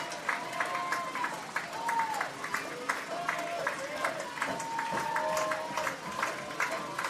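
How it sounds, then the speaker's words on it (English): Baseball fans from both sides cheering at a college NCAA Tournament game, Tampa versus Nova Southeastern: a steady wash of crowd noise with scattered claps and shouts at a distance, running beneath a commentator's talk. "Tampa fans, actually both sides are trying to cheer their team on at this point"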